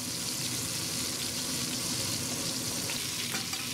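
Meat browns in a hot pot for French dip sandwiches, giving a steady, dense sizzle and crackle of frying. It stays close and constant the whole time, with no voices.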